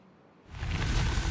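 Clean water rushing into the terrain in the game Timberborn, a broad whooshing flow that swells in after a quiet start and stays full and steady.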